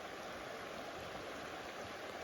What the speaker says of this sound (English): This is what the river looks like